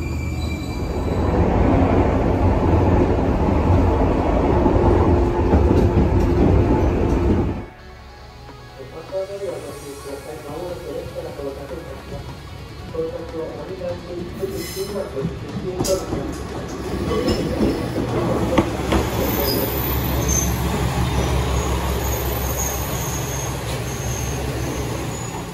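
A Japanese Kiso Line train runs loud and steady with a rumbling, rattling roar that drops suddenly to a quieter rolling interior hum with faint squeals and clatter, with no one talking.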